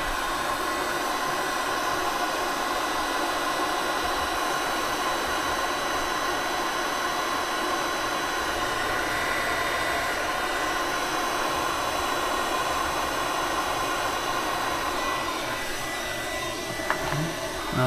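A KKSEVENS 1300W magnetic induction heater heats a bolt, giving a steady, fairly loud broadband hiss and hum that holds unchanged throughout, with a faint click near the end.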